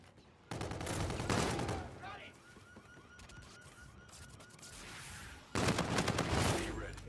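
Automatic weapon fire in Call of Duty: Infinite Warfare, two loud sustained bursts with a quieter stretch of game noise and distant shots between them.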